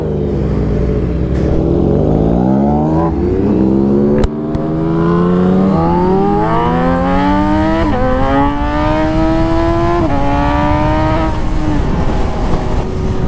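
Two naked sport bikes, a Yamaha MT-09 and a Kawasaki Z900, ride together, loud and close, as the engine note climbs through repeated gear changes with rising and falling revs and a brief drop near the middle.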